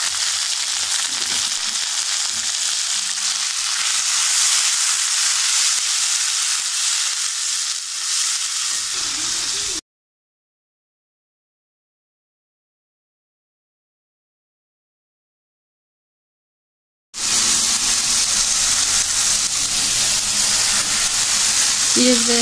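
Onions frying in oil in a pan, cooked until browned: a steady, close sizzling hiss that runs unbroken, cuts out to silence for several seconds, then resumes just as loud.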